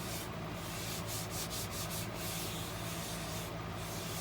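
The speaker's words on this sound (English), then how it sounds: "put this abrasive paste on here" Steady abrasive rubbing hisses continuously, like a pad working over a wood surface, sanding turned wood with abrasive paste, with a few brief scratchier strokes mixed in; quiet and close.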